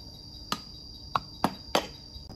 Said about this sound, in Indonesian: Kita tonjok aja pakai obeng.